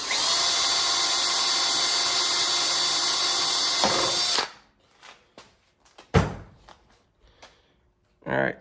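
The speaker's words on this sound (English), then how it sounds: "It's easier to take most of the material out with a drill bit than sit there with the little Dremel tool." Power drill boring holes into an engine piston, a loud, steady high whine for about four seconds, then stopping, followed by scattered metallic clicks, taps and a short burst of drilling near the end.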